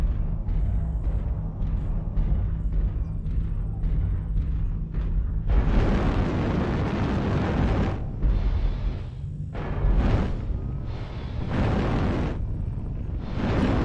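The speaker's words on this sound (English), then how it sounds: "Artillery strike online." An artillery strike in the video game Mechanized Mayhem pounds the area with a rapid run of heavy explosions, then a long roaring blast followed by several more loud booms rumbling close and continuous.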